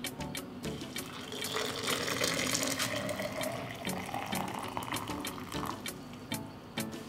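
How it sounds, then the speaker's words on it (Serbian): Freshly boiled water poured into a jug, a steady close gurgling stream filling the vessel, with small knocks and clicks scattered throughout and no talking. "I sada ću vodu sipati u bokal."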